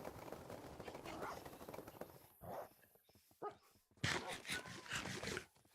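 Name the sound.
wolf barking in the video game Minecraft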